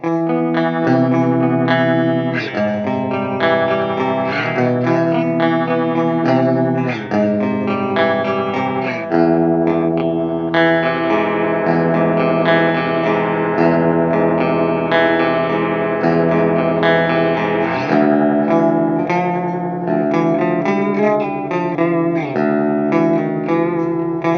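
Electric guitar plays a continuous melodic passage through a LEKATO PS-01 pitch shifter pedal set up five steps, giving a thick, shimmering, upward-shifted tone; loud and steady, no talking.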